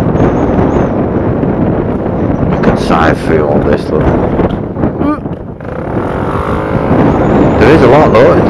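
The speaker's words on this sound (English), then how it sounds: "Look at all this traffic" Night road traffic streams past a Gilera DNA 180 scooter rider, with a steady rush of car engines mixed with strong wind buffeting and a muffled voice talking.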